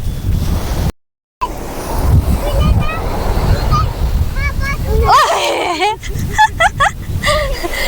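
Sea waves rush and wash in steadily onto a beach with wind buffeting the microphone, while voices talk and call out over the surf.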